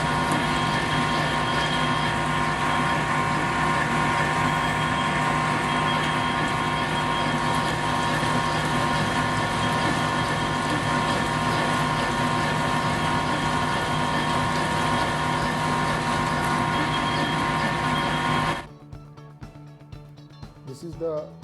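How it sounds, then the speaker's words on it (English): A gear hobbing machine cuts a gear blank with its hob, producing a steady, dense mechanical drone with a constant hum that runs unbroken for most of the stretch, then drops suddenly to a quieter, sparser background near the end. "we observe the small video of a gear hobbing process"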